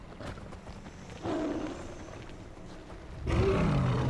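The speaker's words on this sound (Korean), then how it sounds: "이건 두 마리 호랑이 소리인데" Two tigers roaring in the stone-age video game Far Cry Primal, a moderate growling roar rising after the first second, then a louder, deeper roar bursting in near the end, heard without speech.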